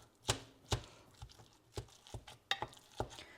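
A spoon stirs a smooth mixture in a pan on a medium burner, giving sharp, evenly spaced clinks and scrapes against the metal, fairly close and alone.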